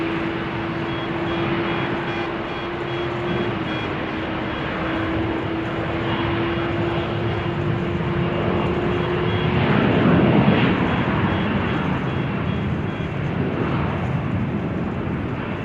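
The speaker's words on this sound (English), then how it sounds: "Meanwhile, Turkish A350 is on the move, presumably over here." A Turkish Airlines Airbus A350 taxis at Amsterdam Schiphol on a showery day, producing a sustained, steady jet engine drone with a faint whine. The rumble swells midway as the aircraft draws nearer, and no one speaks.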